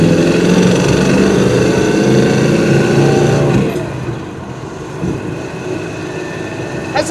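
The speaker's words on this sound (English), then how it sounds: "Has a nice exhaust tone to it, where you can hear the exhaust" A 1969 Chevrolet Nova's engine and exhaust droning steadily while driving, loud and close, then easing off to a quieter rumble as the car slows.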